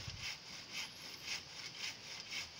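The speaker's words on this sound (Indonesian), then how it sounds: "kita buat di tulang tengahnya supaya lebih kuat digergaji, dan kemudian kita rapihkan" A hand saw cuts through wood for the middle crosspiece of a monkey trap, giving steady back-and-forth rasping strokes, about five even passes, close and alone.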